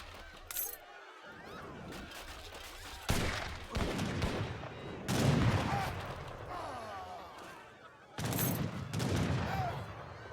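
Organ guns firing during an Age of Empires III match, with repeated volleys of crackling shots in clustered bursts amid battle noise, at moderate loudness.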